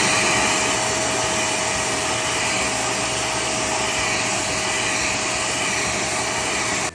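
A Dearma handheld vacuum cleaner runs continuously, a loud steady whine with a constant high-pitched tone that stays level throughout before cutting off at the end.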